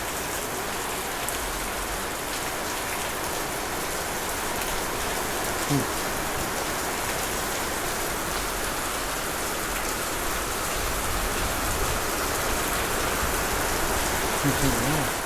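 Steady rain falling, a constant even hiss throughout with no breaks, moderately loud and close.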